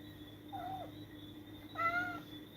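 A house cat gives two meows, a soft short one followed by a longer, louder call, against a faint constant hum in an otherwise quiet room.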